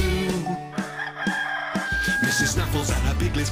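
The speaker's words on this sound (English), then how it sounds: "we all know who goes cock-a-doodle-doo" A cartoon barnyard rooster crows cock-a-doodle-doo over a bright children's music backing, its call rising and held as a sustained tone amid the busy accompaniment.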